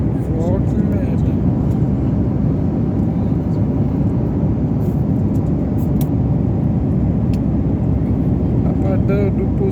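A passenger airplane landing, heard from inside the cabin as a loud, constant low engine and airflow roar, with voices talking over it.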